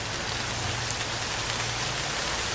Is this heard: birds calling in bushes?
no